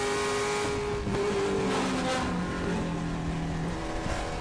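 Trans Am race cars lapping Sonoma Raceway near turn 10, engines droning and shifting pitch as they pass at moderate distance, layered tones rising and falling, no talk.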